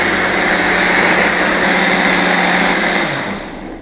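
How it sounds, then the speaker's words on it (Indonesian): Electric blender grinding shallots and small chilies for Indonesian spice paste, a steady loud whirring motor that runs continuously and winds down at the end, no talk. "tips pakai blender ini efektif ya buat mencampur bumbu dasar"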